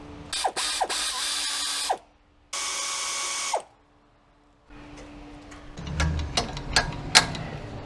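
Ratchet loosening the two bolts on a rear brake caliper, bursts of rapid clicking ratchet strokes with short pauses between, close up, followed by quieter metallic tool handling.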